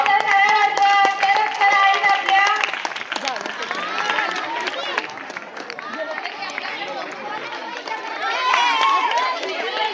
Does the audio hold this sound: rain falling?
no